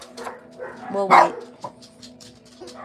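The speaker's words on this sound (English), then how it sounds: "excuse the dogs" A dog barks loudly once and whimpers nearby, with a few softer yips while a person speaks briefly.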